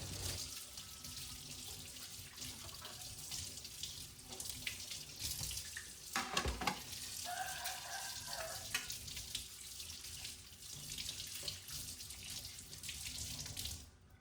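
Soaped dishes are rinsed under a running tap, a steady close rush of water splashing over the dishes with occasional clinks and shifts in the flow.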